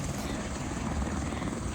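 A helicopter flies on the Kedarnath pilgrimage route, a loud steady rotor roar that fills the clip with continuous thumping wash, with a faint voice underneath.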